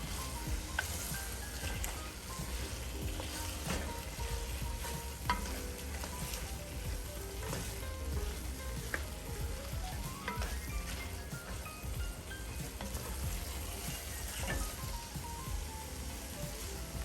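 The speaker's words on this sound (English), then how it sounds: "now I'm going with my ground pork. And I'm going to break that up and get it all mixed up so it can start cooking evenly." Ground pork frying in a pan for Bolognese sauce, broken up and stirred, giving a steady, dense sizzle with scraping and stirring throughout, close and even in loudness, with no talking.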